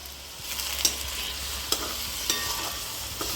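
Spice paste stirred in a frying pan with a soft steady sizzle, punctuated by a few light scraping strokes of the spoon at irregular intervals, close and fairly quiet.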